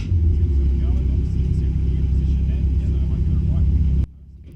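An Audi RS3 LMS TCR race car engine runs at a steady, loud, deep idle rumble close by, then cuts off abruptly near the end, leaving only a faint background hum.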